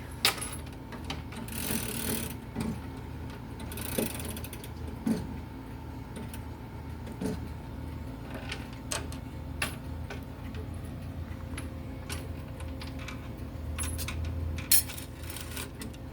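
Mechanical clocks from a collection being wound, with a faint steady ticking under scattered clicks and handling knocks from the winding, recorded close in a quiet room.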